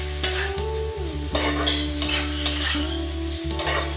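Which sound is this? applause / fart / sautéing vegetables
sautéing vegetables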